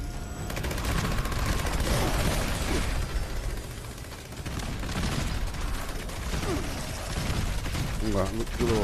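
A Gatling gun in Fallout 76 fires continuously with a dense mechanical whirring rattle and overlapping shots, keeping a steady loud roar, with a spooling whine near the end.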